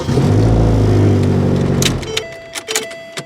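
A 2009 Ford Focus with an intermittent no-start and a bad ignition switch, its engine cranking steadily up close for about two seconds without catching, followed by a few light clicks and key jingles.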